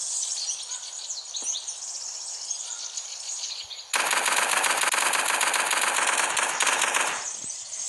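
Gunfire in a multiplayer video game: quieter background shooting at first, then a sudden loud sustained burst of rapid automatic fire lasting several seconds before it cuts off.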